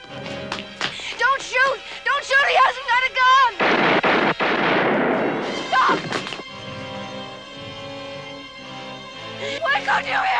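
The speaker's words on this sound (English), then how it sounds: "Don't shoot. Don't shoot. He hasn't got a gun." Gunshots in a video game scene: a loud burst of gunfire and crashing blasts erupts in the middle, between stretches of raised voices and dramatic game audio, with sharp hits returning near the end.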